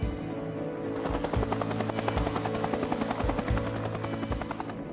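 A Bell UH-1 Huey helicopter in flight gives a loud, steady rotor thump with rapid regular blade slaps over a low engine drone, continuous and close, without any talking.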